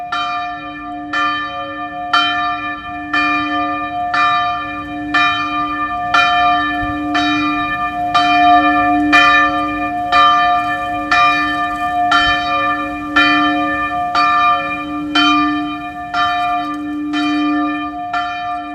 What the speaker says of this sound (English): the sound of church bells ringing